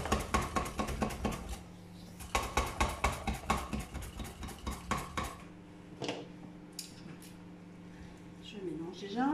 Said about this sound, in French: Je mélange déjà pour voir ce que ça donne.